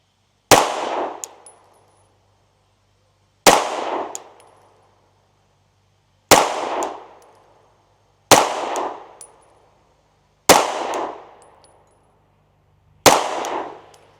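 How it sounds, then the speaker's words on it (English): Six Glock pistol shots fired at a target ring out one at a time, spaced a couple of seconds apart, each a sharp loud crack with a ringing decay on an outdoor range. "Why don't we now just shoot 5 shots?"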